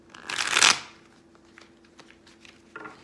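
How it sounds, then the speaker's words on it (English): Rider-Waite tarot cards are riffled in one brief, close burst of flapping card shuffling, followed by quieter handling and soft taps with no speech. "let's pull some guidance cards for you. I'm getting to pull from the Rider-Waite deck."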